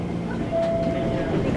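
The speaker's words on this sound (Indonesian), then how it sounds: "Di kereta." A passenger train travels near Bogor, heard from inside a carriage as a continuous rumble of wheels on rails with a brief faint tonal whine over the steady noise.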